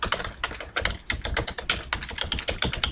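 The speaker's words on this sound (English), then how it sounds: "Here I type my footnote" Rapid keystrokes on a computer keyboard as a footnote is typed in Microsoft Word 2010, a steady close-up run of light clicks and taps with no voice.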